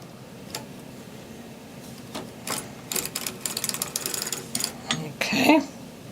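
A hand-cranked circular sock knitting machine gives a run of mechanical clicks and ratcheting ticks, building in the second half with a short squeaky burst near the end, while a person speaks nearby.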